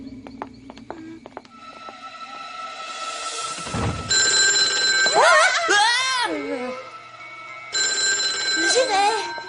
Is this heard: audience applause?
no